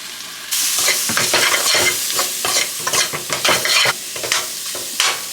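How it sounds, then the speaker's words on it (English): Onions sauteing in a pan with a bright continuous sizzle, broken by frequent scraping and stirring strokes of a utensil, close and fairly loud. "I saute to soften up the onions"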